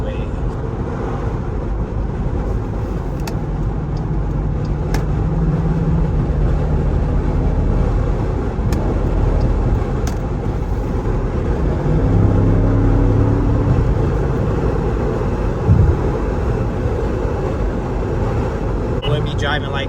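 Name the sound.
Jeep SRT engine while driving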